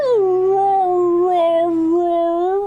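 A person vocally imitates a husky dog's howl, one sustained, wavering tonal howl lasting nearly three seconds, loud and close, with a slight rise and dip in pitch.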